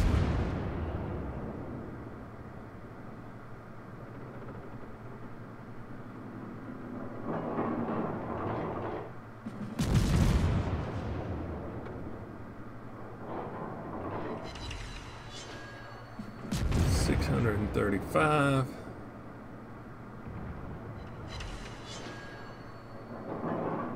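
Heavy booming shots from the guns of an Italian tier-4 naval cruiser in World of Warships ring out, with several loud blasts and rumbling, crackling tails over a steady low engine drone. Gaps of quieter ambience separate the salvos.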